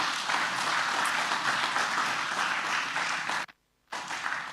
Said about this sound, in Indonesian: Beri tepuk tangan yang...